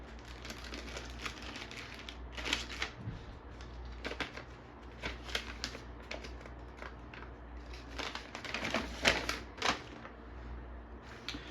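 Paper rustles and crinkles close by while it is pulled out and handled at an arcade game repair bench, with irregular bursts of crisp crackling and sliding.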